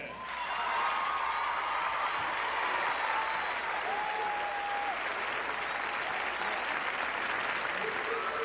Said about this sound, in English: Let me see you just clap your hands to the beat